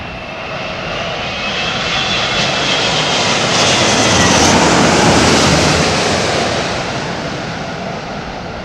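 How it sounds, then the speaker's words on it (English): Airliner jet engines spool up under autothrottle during a gusty crosswind landing approach, a loud broadband roar that swells to a peak mid-clip and then fades as the aircraft passes, with wind noise and no talk. "Look at the engines being powered up by the auto throttles."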